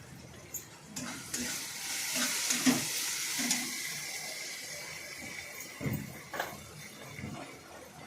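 Onion and tomato cooked down in oil sizzle quietly in a pan as turmeric goes in, with soft stirring scrapes and a few taps, fairly faint and close.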